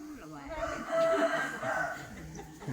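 A fighting cock crows once, close by and loud, with a drawn-out call over faint background voices.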